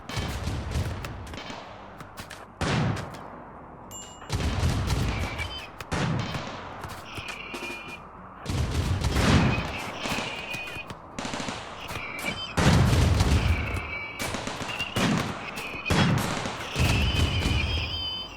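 Turrets in the video game RimWorld fire in repeated bursts of rapid shots separated by short lulls, loud and close, with small impact and ricochet sounds between volleys.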